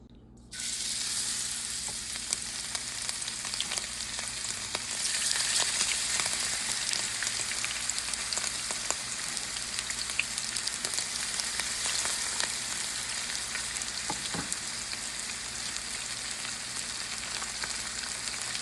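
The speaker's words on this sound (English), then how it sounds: "I am cooking these in grapeseed oil" Chicken pieces fry in grapeseed oil in a pan on the stove: a loud, steady, close sizzle with crackling that runs without a break for the whole stretch, and nobody speaks.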